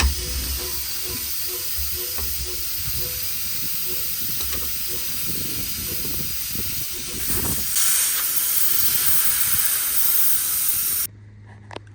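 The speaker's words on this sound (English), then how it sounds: "So I'm going to drain the air out, change that switch, and hopefully now the compressor will turn off at 12 bar." Compressed air hisses steadily out of a Mercedes Vario truck's air tank as it is drained, a broad continuous hiss with faint ticks and clunks, swelling briefly near the end before cutting off abruptly.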